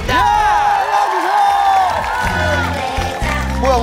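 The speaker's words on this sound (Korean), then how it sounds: "큰 박수 해주시기 바랍니다!" A studio audience on a Korean TV talent show claps and cheers loudly after being asked for a big round of applause, with whoops and crowd noise sustained throughout.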